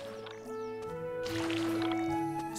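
Watering plants in the game Kitaria Fables gives soft splashing and gurgling water sounds layered over steady game music.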